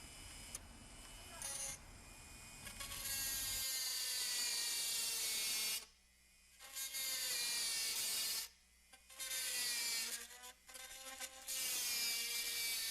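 A cutting blade slicing through the plastic housing of an LED tail light in slow, deliberate passes, its high whining buzz running in long stretches broken by short pauses.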